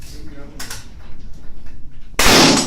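A single sharp gunshot from an M4/AR-15 rifle firing 5.56 NATO rounds on a shooting range bursts out loud and close near the end, after a stretch of speech and light handling noises.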